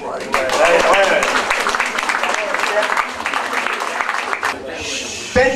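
An audience claps at the prize-giving ceremony of the 21st Aigle de Nice International art competition, with a steady mass of hand claps and a voice over a loudspeaker above it, ending in a brief burst.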